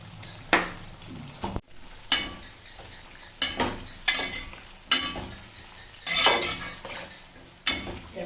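Ethakka upperi, Kerala banana chips for Onam, frying in hot oil in a pan with a steady sizzle, broken by repeated loud scraping stirs of a metal spoon against the vessel at irregular intervals.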